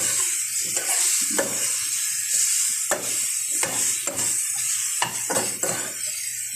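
Chicken stirred and fried in a pan until browned, a steady close sizzle with repeated scraping stir strokes against the pan at an uneven rhythm.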